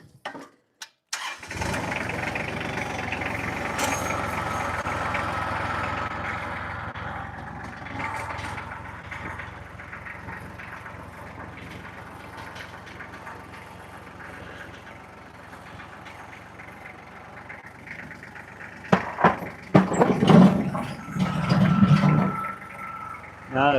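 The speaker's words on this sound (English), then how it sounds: "let's bring this tractor over here." A tractor engine cranks and catches, then settles into a loud, steady diesel-like run close by, dropping to a lower idle before revving and clattering again near the end, with speech faintly under the engine noise.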